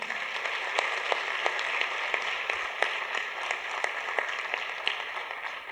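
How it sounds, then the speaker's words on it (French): Applause from the audience at the closing session of a notaries' conference, steady and fairly close, with sharper individual claps standing out against a continuous pattering wash. "On les applaudit aussi."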